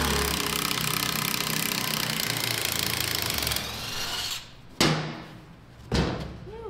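Steady, loud grinding as a cutter chops through the axle of a Bombi tracked vehicle being stripped down, then the blade winds down and two short sharp metallic bursts ring out near and alone.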